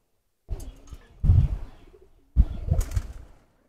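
Rocket breed pigeon cooing close by in three short throaty bursts separated by brief pauses, with a faint flutter and no talk.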